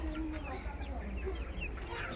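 A flock of domestic chickens, roosters among hens, clucking in irregular calls over a steady low background rumble.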